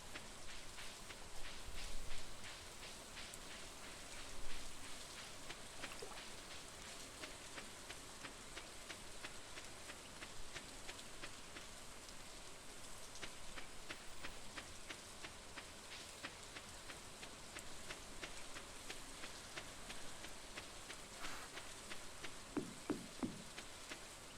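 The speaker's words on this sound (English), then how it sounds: "And it's still raining!" Rain falls steadily but faintly, a soft hiss dotted with scattered drip ticks, with no talking.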